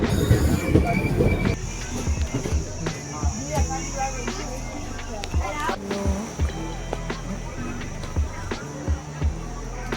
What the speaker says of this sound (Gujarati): તો આવી ગઈ છે આપણી ક્રોસિંગ ટ્રેન।